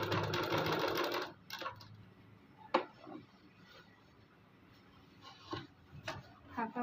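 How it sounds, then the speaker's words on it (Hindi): A sewing machine stitches a lined suit in a steady, close whirring burst for about a second, then stops, leaving faint scattered clicks and handling taps. "इसी टाइप से सिलाई को लगा देना है।"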